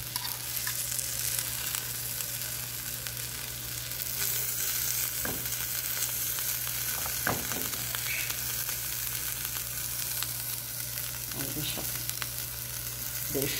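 A sandwich of bread and oregano toasts in a frying pan, giving a steady, close sizzle and frying crackle throughout with a few brief clinks and scrapes and no talk.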